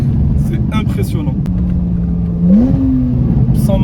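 A Porsche 911 with a 3.8-litre naturally aspirated engine and sport exhaust, driven on a race circuit. Its steady close drone swells into a rising rev about two-thirds through, under continuous talking.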